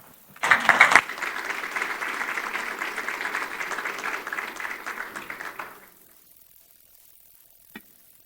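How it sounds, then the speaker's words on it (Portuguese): A seminar audience at a talk on artificial intelligence in education applauds a speaker as he is introduced, steady clapping that starts with a sharp burst, holds for about five seconds and fades into near silence, followed by one isolated knock. "Palmas para ele."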